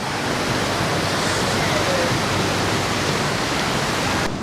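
Loud, steady rush of flowing water from a city water feature in Kuala Lumpur, like a fountain or cascade, continuous and close throughout.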